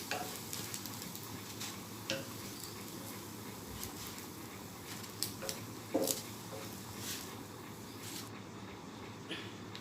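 Bread slices fry in a pan for a children's evening snack, giving a steady, soft sizzle with a few light ticks and clinks throughout, close and fairly quiet.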